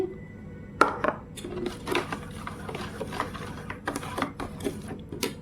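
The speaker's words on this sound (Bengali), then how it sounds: "সুজিটা মিশিয়ে দিচ্ছি" Semolina stirred by hand into cupcake batter in a bowl for palm-fruit cupcakes: irregular scraping and clinking of a spoon against the bowl, close and fairly quiet, with sharper knocks now and then.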